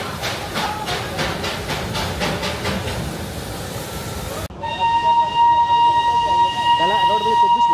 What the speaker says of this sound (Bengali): আবারও হুইসেল বাজিয়ে ধোঁয়া উঠিয়ে ঘুম স্টেশন থেকে দার্জিলিং দিকে রওনা দিল আমাদের টয় ট্রেন